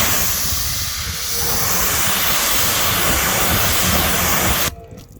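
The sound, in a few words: pressure washer rinsing car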